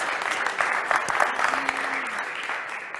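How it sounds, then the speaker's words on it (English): An audience at a Falling Walls Lab event in Leuven claps for the participants and jury, a full, lively round of many hands with a few sharper claps standing out and a faint tone briefly underneath. "perhaps we can give a small applause"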